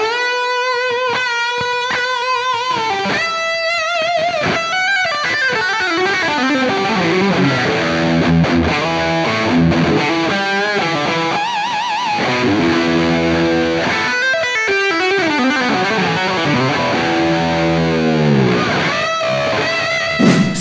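A 1962-style Stratocaster electric guitar through high-gain distortion, loud and up close, playing sliding, bending lead lines and sustained notes with continuous saturated tone and vibrato for about twenty seconds, no speech.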